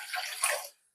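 Water poured into a pot as 2.5 cups are measured for an herbal tea of fenugreek seeds, a short, close splashing stream that tapers off after under a second.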